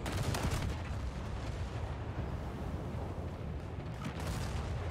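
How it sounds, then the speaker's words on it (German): Heavy naval cruiser gunfire in the video game War Thunder booms in a dense, rumbling barrage, low and muffled, continuing steadily with no talking. "Das sind meine Schüsse"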